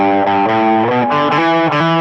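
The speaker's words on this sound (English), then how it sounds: "Then the distortion comes back on after 1 repeat" Electric guitar through heavy distortion plays the ending of a song, loud sustained chords shifting pitch every few beats, with no talking over it.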